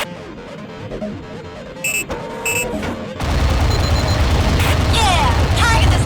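Explosion of a target in the Aquanox underwater video game: quieter mechanical sounds and brief beeps, then a loud, sustained crashing blast with crackling debris taking over the second half, with voice chatter mixed in.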